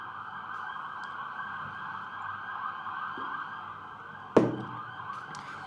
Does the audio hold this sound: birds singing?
no